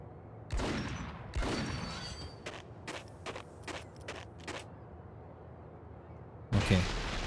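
Heavy rifle shots in the shooter game Max Payne, two booming reports with long decaying tails, then a rapid run of sharper single shots and a final loud blast, at moderate loudness.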